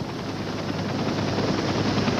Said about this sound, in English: In a matter of minutes, the helicopter was there.